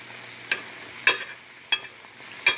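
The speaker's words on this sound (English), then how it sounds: "just keep sauteing them till the veggies get, you don't want them too mushy" Mixed vegetables sautéing in a pan, four sharp scraping stirs spaced about half a second apart over a faint background sizzle, close up with no voices.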